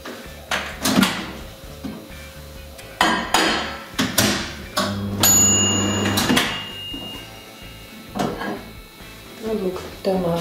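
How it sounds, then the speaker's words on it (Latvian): A dish of cut tomatoes for spicy tomato sauce goes into a microwave oven: close knocks and door clunks, then a brief steady hum, followed by more scattered handling thumps. "Un likšu trauku mikroviņu krāsnī uz dažām minūtēm."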